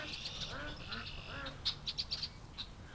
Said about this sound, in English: They're walking around quacking their heads off.